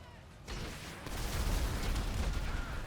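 Game explosions and gunfire in GTA played on a Steam Deck form a dense, roaring wash of booms that swells after a short lull and stays loud and continuous to the end.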